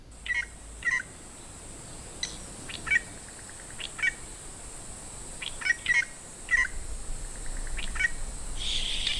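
Short, sharp calls of crested drongos ring out in scattered bursts at a waterhole in Madagascar over a soft, steady outdoor hiss, fairly faint and a little distant.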